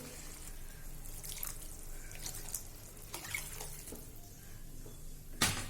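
A steady stream of water splashing into a kadhai of cooking amaranth greens gravy, continuous and moderately quiet, with a few small clinks.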